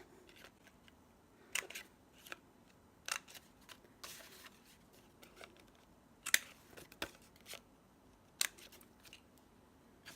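Paper craft pieces having their corners rounded with scissors or a corner punch: scattered sharp snips and clicks at irregular intervals, fairly faint against a quiet room, with no talking.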